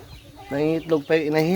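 Close clucking of a native laying hen, a few drawn-out, throaty calls rising and falling in a short burst.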